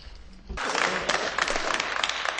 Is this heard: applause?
yes